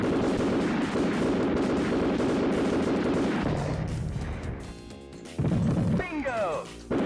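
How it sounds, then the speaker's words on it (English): Loud, dense bursts of gunfire and explosions in the arcade game Smash TV rumble continuously, thinning out briefly before another heavy blast and crackling debris. "There's too many explosions all around me."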